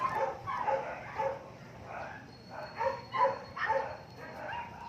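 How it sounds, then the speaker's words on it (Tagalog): A big pet dog barks in short clustered bursts, several deep woofs in a row, a pause, then another run of barks at moderate distance. "Takot din ako sa aso namin na yan kasi malaki."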